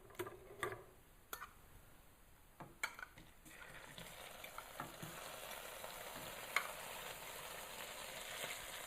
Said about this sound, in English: There's our sizzling sprouts for you.